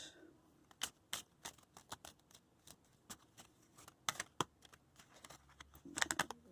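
Oracle cards are shuffled in irregular bursts of quick, crisp riffling and tapping, close and soft, with short pauses between.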